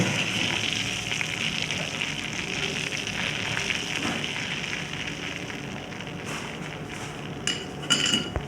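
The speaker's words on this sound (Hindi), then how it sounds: "इधर जो मसाला मैंने ग्राइंड किया था वो डाल दूँगी ताकि मसाले का भी कच्चापन ख़त्म हो जाए।" Ground spice masala hitting hot oil for raw mango pickle: a steady, dense sizzling crackle throughout, with a few faint clinks of utensils near the end.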